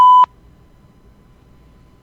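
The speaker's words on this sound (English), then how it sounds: "I still don't know why we beeped that out" A single loud electronic censor beep, a steady tone lasting about a quarter second, cuts off sharply and leaves near silence.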